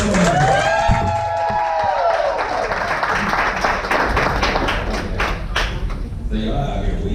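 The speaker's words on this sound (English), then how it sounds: "big round of applause for Marshawn, the best man." Wedding reception guests applaud and cheer the best man, a loud crowd roar with clapping that mixes with voices and amplified speech.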